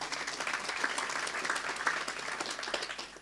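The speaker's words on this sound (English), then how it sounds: "So give yourselves a round of applause." Moderate applause from a panel discussion audience, a steady wash of many hands clapping at even loudness throughout.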